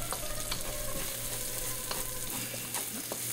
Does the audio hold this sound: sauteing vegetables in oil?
yes